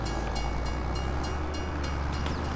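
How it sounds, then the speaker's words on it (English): A train rumbles past in Farming Simulator 22, a steady continuous roar of rolling wagons with faint rhythmic clatter, moderately loud and close throughout. "Ah, just missed the train."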